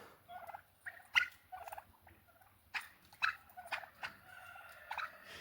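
Turkeys gobble in repeated rapid bursts, several birds calling one after another at close range, with no talking.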